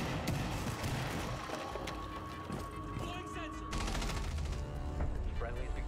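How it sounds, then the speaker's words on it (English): Dense, continuous gunfire and blasts in Rainbow Six Siege, rapid bursts layered over steady rumble with voices underneath, loud throughout. "There's so many explosions."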